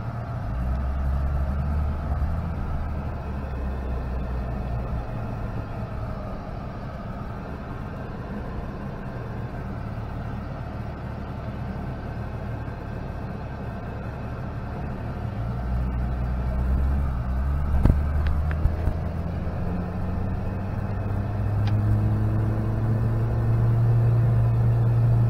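A 1996 Mitsubishi Pajero Mini rumbles along with a steady low engine drone and road noise from inside the cabin, the engine note rising toward the end as it pulls into a parking lot.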